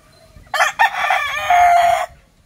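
A Boston comb rooster crows once, loud and close, in a single drawn-out call lasting about a second and a half against a quiet background.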